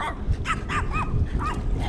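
Three small dogs barking and yipping in short repeated bursts close by, several sharp barks overlapping, with a low rumble of background noise underneath.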